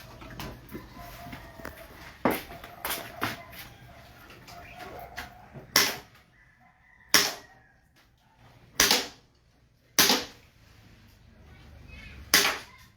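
A CZ Shadow 2 airsoft gas pistol fires five sharp, loud shots at irregular intervals, each a crisp pop with a short hiss of gas, following softer handling clicks and faint background noise.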